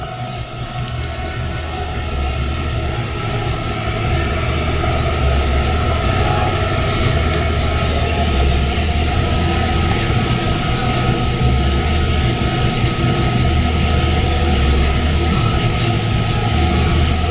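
A Mill City 1 kg coffee roaster runs with a continuous loud mechanical drone and whir from its drum and burner, steady throughout with no talk.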